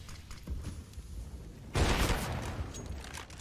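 Gunfire in CS:GO during a professional match between MIBR and Liquid at IEM Dallas 2022, with a sudden loud burst of shots at mid-clip after quieter background rumble, fairly close and sustained.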